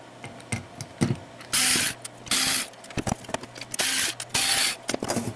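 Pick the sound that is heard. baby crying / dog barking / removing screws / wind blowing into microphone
removing screws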